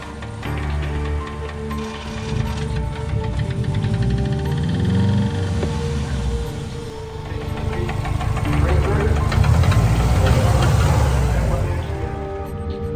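A blown Subaru WRX STI engine runs rough with an uneven mechanical knock under a rising and falling rev, recorded close, with a voice talking over it.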